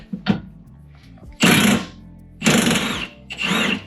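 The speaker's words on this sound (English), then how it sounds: "What you gotta do is just hit this with an impact." An impact wrench works a bolt loose on a Ford Fiesta ST during a coilover install, firing in three loud, rattling bursts close by with short gaps between them.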